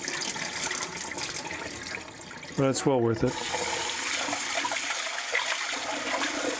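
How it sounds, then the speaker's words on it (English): Lentils are rinsed in a cooking pot for a simple curry, with water sloshing and being poured off in a steady stream. A voice speaks briefly in the middle, and the water carries on beneath it. "I just like doing it in the pot and pouring off the water"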